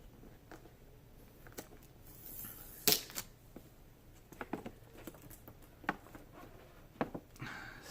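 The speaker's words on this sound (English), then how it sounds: "so I got to peel the stickers off" Stickers being peeled off the bottom of a Funko figure: small, close scratchy rips and crinkly patters scattered irregularly, with one sharper, louder tearing burst near the start.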